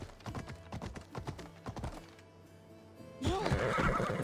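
A horse in Assassin's Creed Odyssey whinnies loudly in a shaky neigh after a run of hoof clatter, then a burst of rushing noise follows.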